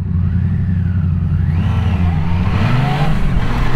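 Motorcycle accelerating through town streets, a loud continuous engine note climbing steadily in pitch as it pulls away, close and without any voices.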